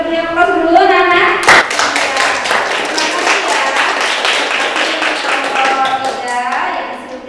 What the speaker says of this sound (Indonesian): kita beri aplaus dulu, anak-anak